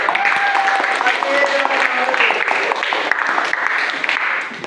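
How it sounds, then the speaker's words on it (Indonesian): Classroom students applaud together, a lively clatter of hand claps mixed with children's voices and chatter that fades near the end. "Kalau gitu, beri tepuk tangan untuk kalian."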